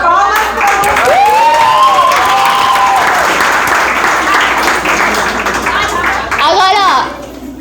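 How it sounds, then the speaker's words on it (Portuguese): Classroom applause for a student, a brief burst of clapping from a room of children mixed with lively chatter and squeals, sustained for several seconds before cutting off abruptly. "palmas pra Lúcia"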